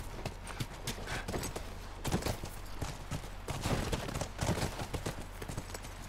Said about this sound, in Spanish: Venga, subamos a los caballos.